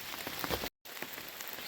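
Steady rain patters on the Long Trail in Vermont, a dense continuous hiss with scattered drop hits, broken by a brief silent gap partway through.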